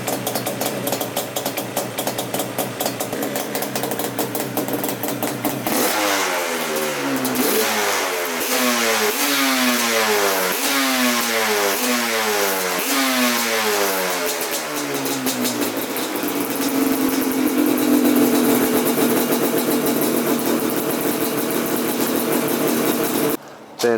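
A 1996 Yamaha Banshee 350 ATV, freshly rebuilt with new clutch, water pump and carburetors, barks to life after a kick start and revs hard in repeated rising bursts, loud and close, settling into a sustained high rev.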